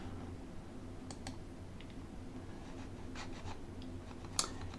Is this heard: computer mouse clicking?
yes